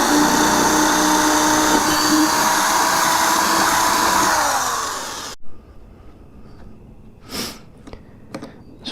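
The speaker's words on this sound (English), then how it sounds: "So we're going to drill these out." A loud, continuous power drill whine, drilling out holes for hard saddlebags on a 2019 Harley-Davidson Softail Fat Boy, for about five seconds winds down to a stop, followed by quiet with a few short clicks and bumps.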